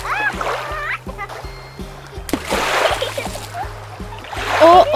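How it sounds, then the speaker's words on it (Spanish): Sea waves splash as someone jumps over them at the shore, with bursts of spray and sloshing water rising over a steady tuneful backing. "¡Qué divertido saltar sobre las olas!"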